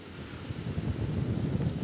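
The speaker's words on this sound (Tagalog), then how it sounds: "nakakatakot yung malakas na hangin na nararanasan natin dito sa Baler, Aurora" Strong wind of Super Typhoon Uwan at Baler, Aurora, a loud continuous roar buffeting the microphone in gusts.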